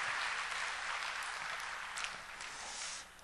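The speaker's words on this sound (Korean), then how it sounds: "우리 찬양대 한번 격려의 박수" Congregation in a church applauding the choir after a hymn, a dense steady round of clapping that fades toward the end.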